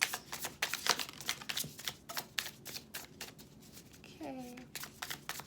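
Tarot cards being shuffled at close range, a run of quick papery riffles and flicks in uneven bursts, ending with a brief voiced sound near the end.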